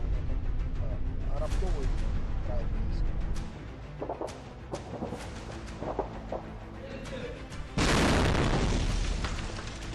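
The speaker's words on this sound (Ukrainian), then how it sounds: "Повітря постійно гуде від вибухів і пострілів." Dull booms and sharp bangs of artillery fire and explosions in Bakhmut, Ukraine go off at irregular intervals, some distant and muffled, with a louder roaring burst near the end.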